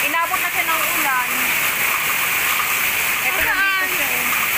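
Heavy rain pours down onto a new mesh net cover over garden plants, a loud dense continuous rush and splatter with brief shouted voices over it.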